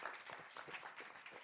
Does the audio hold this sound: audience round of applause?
yes